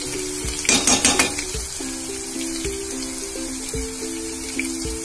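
Green chillies and turmeric fry in hot oil in a pan with a steady close sizzle, and a brief burst of louder crackling and stirring comes near the start. A faint tonal hum runs underneath.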